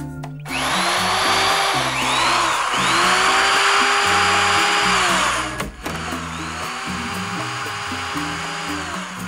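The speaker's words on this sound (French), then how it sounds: "Perceuse." A cartoon power drill whirs loudly in two long bursts over background music, its pitch sliding up and down as it bores in to patch a small leak.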